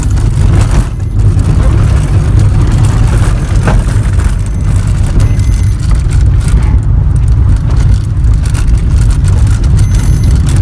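A Maruti XL6 car drives over a rough, broken road, its steady engine and road rumble loud and continuous from inside the cabin with no talk.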